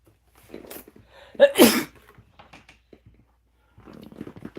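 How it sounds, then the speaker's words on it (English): A single loud, sharp sneeze bursts out close to the microphone, followed by quiet rustling and faint breathing. "About to sneeze."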